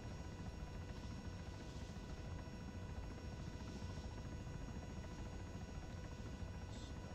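In ARMA 3, a CH-67 Huron twin-rotor transport helicopter flies with a continuous, loud, droning rotor and turbine roar. The sound is steady throughout, with faint periodic swells.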